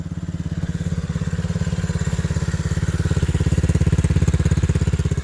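A children's ATV engine revs steadily and loudly at close range while being ridden, a continuous buzzing drone with rapid regular pulsing that swells slightly toward the end.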